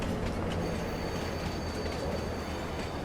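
Train in Farming Simulator 22 rumbling steadily along the track, with a continuous low rolling roar and faint high wheel squeal, no talking over it.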